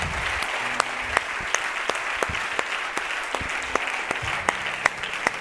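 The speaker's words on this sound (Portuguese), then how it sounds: "Pode dar um aplauso a Jesus por tudo isso." A church congregation claps together in a steady, loud wash of applause, with sharp individual claps standing out and faint voices mixed underneath.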